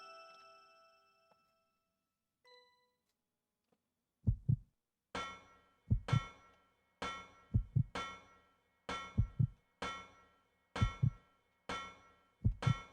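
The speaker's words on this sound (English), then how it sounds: "The game is giving me heartbeats." Heartbeat effect from the video game Resident Evil Code: Veronica, a steady run of paired thumping beats after a brief quiet lead-in with faint tones, loud and alone.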